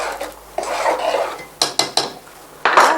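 Piperade is stirred in a pan, with a utensil scraping and clinking against the metal in quick, uneven strokes and a few sharp knocks, close and clear, with no talk.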